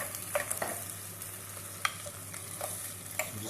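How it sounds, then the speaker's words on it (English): Chopped tomato cooks in a pan with a quiet, steady sizzle and a few light taps and scrapes from stirring, alone and fairly soft. "So that's chopped tomato. And let's just get that cooking nicely."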